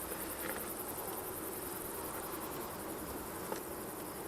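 A dense, continuous hum of many bees buzzing around an open hive, close and steady with no pauses, a faint high whine layered over it and no voices.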